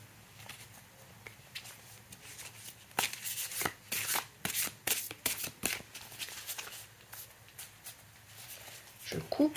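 Oracle cards are shuffled by hand, a few quiet rustles giving way to a burst of sharp, rapid riffling slaps in the middle, then a soft settling at the end.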